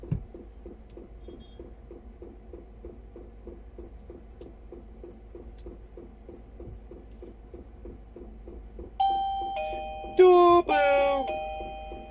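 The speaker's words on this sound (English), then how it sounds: "Doorbell!" Doorbell chimes ringing loudly near the end over a steady background hum with a soft regular ticking pulse, a multi-tone electronic ding-dong melody indoors.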